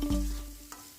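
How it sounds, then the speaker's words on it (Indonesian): Chili and spring onion seasoning stir-fried in a wok gives a brief steady sizzle with a single soft scrape of stirring, heard alone. "Tumislah ketiga bumbu tadi hingga mengeluarkan bau yang cukup menggugah selera."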